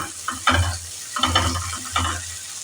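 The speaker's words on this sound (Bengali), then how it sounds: "এটাকে একটু নাড়াচাড়া করে নিলাম।" Bitter gourd stirred in a hot pan with Kashmiri chili powder, a spatula scraping and tossing the pieces in a few separate strokes over a soft, steady sizzle, close by and with no talking.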